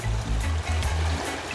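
Water flowing in a natural stream outdoors in the early morning, a steady close rushing and trickling wash with low rumble, continuous and alone without voices.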